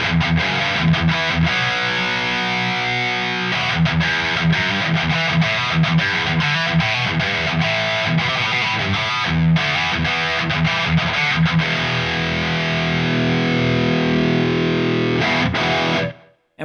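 A distorted electric guitar plays through an Empress ParaEQ with the mid gain boosted at 250, giving a thick, steady, loud riff that runs without a break and cuts off at the end.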